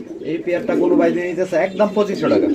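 Pigeons coo in low, throaty warbles close by at a pigeon sale on a farm, with people talking over them.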